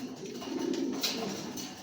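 Racer pigeons coo in a low, steady murmur through a loft where birds are molting, nesting and laying eggs, a soft continuous hum with no talk over it.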